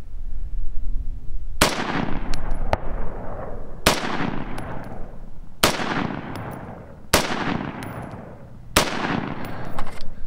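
A rifle fired through a low-power variable optic set at 5x, with six loud, sharp shots spaced roughly two seconds apart, each ringing out in a long echoing decay outdoors, with no talking.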